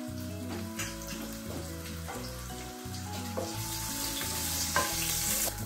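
Onion frying in hot oil in a pan, a steady crackling sizzle that grows brighter and louder, broken by regular scraping and tapping of a stirring utensil against the pan.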